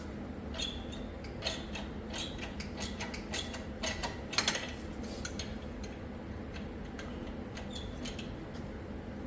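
A wrench turns on a mini skid-steer track, giving a run of quiet metallic clicks, ratcheting and creaks in irregular bursts, with one sharper clank cluster midway and low background rumble.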